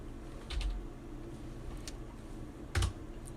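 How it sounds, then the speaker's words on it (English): A computer keyboard gives a few sharp, close key presses, including the 0 key, spaced irregularly over a quiet room hum: two quick taps, a single one, then a louder pair near the end. "you can press 0 on your keyboard"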